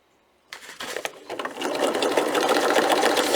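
A sewing machine stitches a fabric book protector around a curve, starting after a brief silence with uneven stitching that builds into a steady, close, continuous whir.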